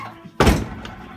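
A car door on a 48-year-old Plymouth Barracuda shuts with one loud, close thunk, followed by a brief faint rattle and quiet room noise.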